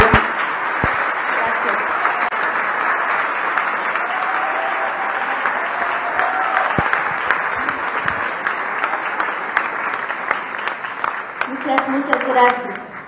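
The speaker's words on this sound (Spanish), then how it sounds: "yo voy a pedir un fuerte aplauso para todas las artistas" Strong, sustained applause from an audience honoring the women artists at a museum exhibition opening in Bolivia, steady dense clapping throughout with a few sharper claps and brief voices rising near the end.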